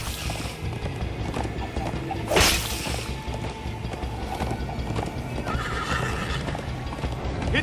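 A horse gallops in Minecraft Story Mode, its rapid hoofbeats running continuously, with a sharp neigh early on and whooshing game effects over the rumble.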